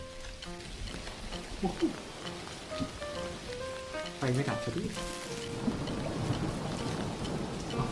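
Rain pours in the game Dinkum with rumbles of thunder rolling through, a dense steady wash that swells louder midway, with someone speaking briefly over it.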